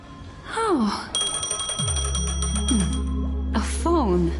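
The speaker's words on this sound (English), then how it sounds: "A phone. Wanna listen in?" A phone ringing in the video game Honkai: Star Rail: a bright, steady electronic ring tone that sustains for a few seconds, with short voiced sounds before and after and a low music drone underneath.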